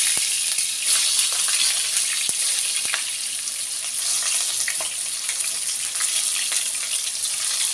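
Steady, dense sizzling and crackling of eggplant frying in hot oil, with occasional sharper pops and spits and no talking.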